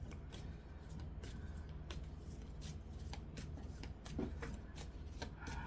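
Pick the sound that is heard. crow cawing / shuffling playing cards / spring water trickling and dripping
shuffling playing cards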